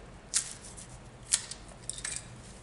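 Cutters snip through the wrapping on wire for a 200 amp weatherhead, giving two crisp close clips and then a softer cluster of small snips against a quiet background.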